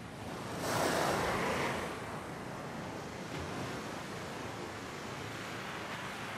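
Ocean waves at Teahupo'o wash and rumble steadily, with one fuller surge of surf swelling early on before settling into a constant moderate roar with light wind buffeting.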